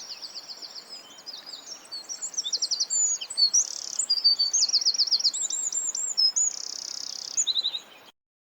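A cockatiel calls in a rapid series of bright, repeated chirps and trills, loud and close, continuing for several seconds with no other sound.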